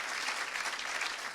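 Dense audience applause for an award winner at a 2015 trophy presentation evening, a steady wash of many hands clapping at full strength throughout the short stretch, with no voices standing out.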